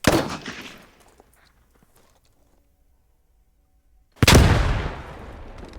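A British rifle cup launcher fires a Mills bomb grenade with a sharp, loud blast that decays slowly into silence. A few seconds later a second heavy boom lands, close and powerful.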